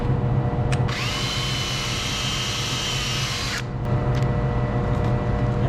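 A power drill whines steadily for about three seconds, biting into a book at close range over a constant mechanical hum.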